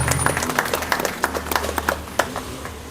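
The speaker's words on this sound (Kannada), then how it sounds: "ಅವರನ್ನು ನಾವು ಚಪ್ಪಾಳೆ ಹೊಡೆದ್ರ ಮುಖಾಂತರ ಆತ್ಮಿಕವಾಗಿ ಸ್ವಾಗತ ಕೋರೋಣ" An audience at a senior citizens' centre inauguration claps to welcome a guest to the stage, a scattered, loose patter of hand claps of moderate loudness with sparse, uneven peaks over a low background rumble.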